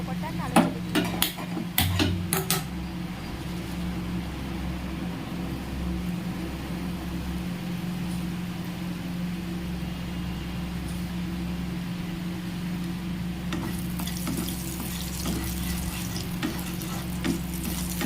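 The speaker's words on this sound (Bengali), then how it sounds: "এবার আমি তেলের মধ্যে অল্প কটা কালো জিরে দিয়ে দিলাম।" Nigella seeds sizzle in hot oil left over from frying fish, a soft continuous crackle with a low hum beneath, a few clattering utensil knocks near the start and a brighter burst of sizzling toward the end.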